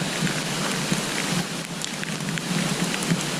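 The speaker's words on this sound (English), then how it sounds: "It's still raining." Steady rain hissing down on surfaces in Algonquin Park, a dense continuous patter with scattered drips, close and even throughout.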